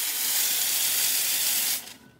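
Steam wand of an Izzo Alex Duetto II espresso machine blasting a steady, loud, close hiss for nearly two seconds before cutting off abruptly into a faint fading tail.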